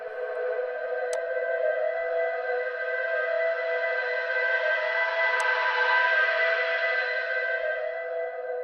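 A sustained synth tone with a slowly sweeping filter, its brightness swelling and receding, plus a couple of faint clicks.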